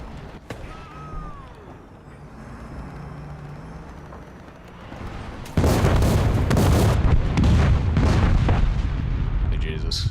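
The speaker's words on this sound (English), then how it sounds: "Is that another artillery strike on the cap?" Artillery strike landing in a tank video game, quiet ambient rumble giving way to a sudden loud sustained barrage of booms and crackling impacts.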